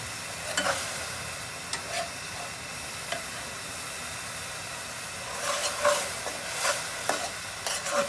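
Spice paste of turmeric, ginger paste and cumin paste is sautéed and stirred in a pan, a soft steady sizzle punctuated by scattered light scrapes and taps of the spoon, louder near the end, with no voices.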